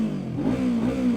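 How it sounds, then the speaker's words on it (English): Kove Cobra 321r motorcycle engine idling and revving up near the microphone, a steady mid-pitched drone with a slight rise in pitch partway through, heard alone. "Let's listen to this beautiful engine"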